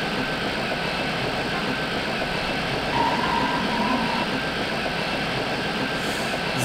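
A Berlin subway train of the H97 series runs in the MSTS train simulator game, giving a steady, continuous rumble of motor and wheels with a constant drone throughout and no voices.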